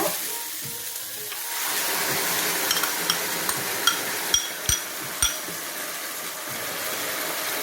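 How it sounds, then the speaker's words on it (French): Coconut milk poured into a pan of simmering chicken curry with half-cooked potatoes, a steady bubbling sizzle with several sharp clinks of a utensil against the pan, close and without talk. "Et là, on va ajouter le lait de coco"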